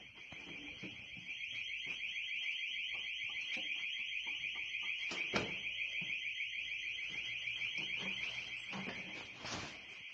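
A fire alarm sounds continuously as a loud, steady electronic tone with a rapid pulsing texture, joined by occasional faint knocks and rustles in the background.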